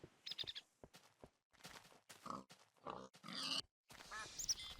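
Pig in the Minecraft Technic modpack grunting and oinking repeatedly in short, close bursts with brief pauses between.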